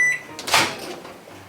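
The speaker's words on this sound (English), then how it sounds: "put it in the microwave for like 20 seconds" A microwave oven beeps and clunks as its door opens or shuts, giving a brief close tone followed by a short mechanical thud.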